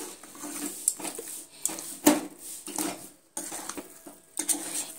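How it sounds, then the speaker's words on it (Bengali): Semolina being stirred with ghee in a pan for a halwa, close scraping and clinks of a spoon against the metal pan in uneven strokes, with a faint sizzle between them and no voices. "ঘিটা দিয়ে আবারও সুন্দরভাবে এইভাবে সুজির সঙ্গে নেড়ে চেড়ে নিচ্ছি।"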